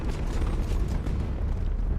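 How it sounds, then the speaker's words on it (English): Big in-game explosion in a Mass Effect–style shooter, a loud, sustained low rumbling boom filling two seconds without speech. "Oh, that was a big explosion."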